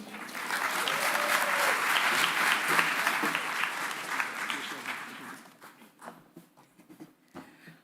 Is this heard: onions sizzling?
no